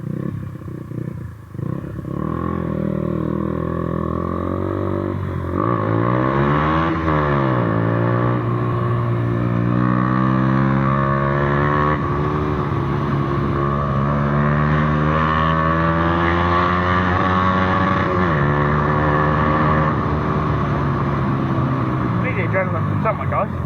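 A motorbike engine runs loud and close, now without its broken exhaust, giving a continuous throaty drone. Its pitch swells and rises through revs and gear changes.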